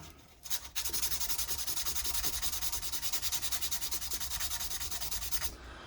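Guitar frets are rubbed with fine-grit sandpaper in quick, steady back-and-forth strokes, close and moderately quiet with a rhythmic scratching texture and no talking.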